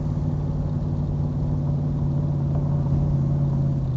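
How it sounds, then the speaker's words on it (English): A 1965 Shelby Cobra Backdraft engine runs under light throttle with a steady, deep, close rumble that swells slightly toward the end. "Listen to this beauty. Now I'm just touching the gas."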